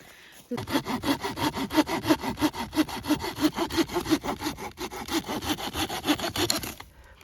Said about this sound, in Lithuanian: pjauna dabar pagaliukus, kad būtų vienodo ilgio